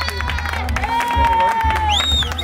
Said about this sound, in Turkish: Alkışlayın bakayım, alkışlayın kendinizi.